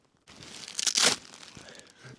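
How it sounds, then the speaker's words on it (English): Oversized Velcro strip on a Luxe Twinpeak hot tent ripped apart in one close, loud tearing burst that rises sharply and quickly fades into light fabric rustle. "Wow, that is a big Velcro."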